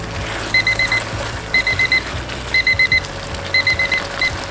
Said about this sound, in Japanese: はい、タイマーになりました。